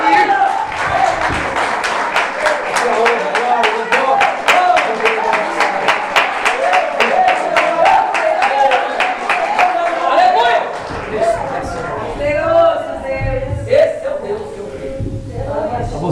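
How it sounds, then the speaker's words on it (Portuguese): A church congregation bursts into sustained rhythmic clapping after a sermon blessing, loud and continuous for several seconds, with voices mixed in and a speaking voice emerging near the end. "Dê uma salva de palmas para Ele."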